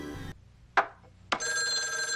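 Telephone ringing in the film Videodrome, a harmonic electronic ring that starts, breaks off, then two short sharp bursts follow before a steady sustained ringing tone returns, fairly close and clear with no talk.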